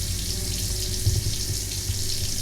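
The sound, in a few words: water running through under-sink filter faucet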